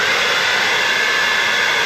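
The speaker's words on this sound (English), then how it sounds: "Dry out any gaps with a hairdryer, and your filler as well." A hairdryer blows steadily at close range over car body filler during a home spray-painting prep, a loud, unbroken airy roar with no pauses.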